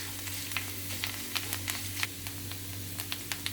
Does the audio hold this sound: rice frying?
yes